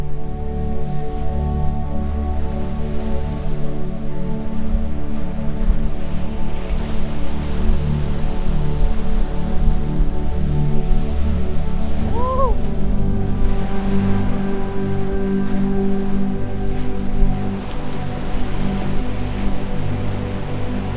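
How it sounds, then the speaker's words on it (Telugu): Sea waves wash steadily onto the beach at Bheemili at sunrise, a continuous low rumbling surf with no pauses, heard alone without talk. "కాసేపు సముద్రపు అలల్లో సౌండ్ వినండి."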